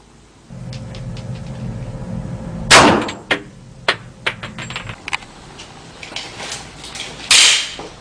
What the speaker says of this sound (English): load the 45 Government to fire at the block of calibrated gelatin